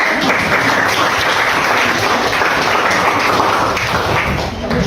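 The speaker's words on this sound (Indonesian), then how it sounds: "Tepuk tangan." Children in a classroom clap their hands together in a dense, continuous burst of applause that holds steady and loud for nearly five seconds before tapering at the very end.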